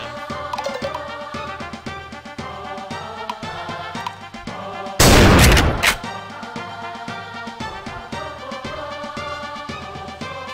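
Cannon fire in the retro video game Boot Hill Heroes lands as a single loud, noisy blast of about a second over busy chiptune music.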